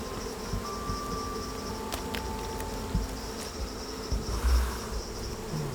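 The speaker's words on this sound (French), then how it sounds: "Tout ça, ce sont des jeunes abeilles." Dense, steady buzzing of many young honey bees at a hive at close range, with a few faint knocks and rustles underneath.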